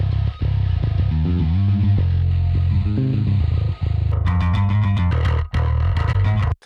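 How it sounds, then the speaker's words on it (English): A heavily distorted electric guitar plays chords and riffs from a song, thick and buzzing, loud and continuous, with a brief brighter strummed passage near the end. "Went for the B distortion today."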